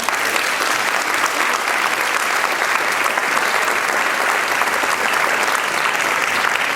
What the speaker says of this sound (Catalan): I vos demane des de l'inici un aplaudiment per a tots ells